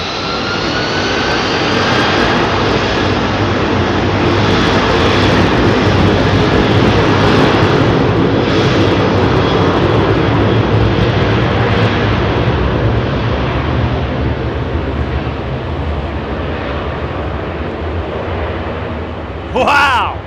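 A Qatar Boeing 777 at Heathrow spooling up its Pratt & Whitney jet engines, a loud, sustained roar with rising whine that holds powerfully for many seconds before easing slightly at the end.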